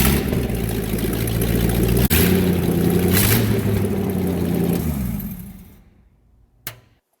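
Home-built buggy engine running without headers, loud and raw with open exhaust for about five seconds, then shutting off and fading to silence, followed by a brief clunk.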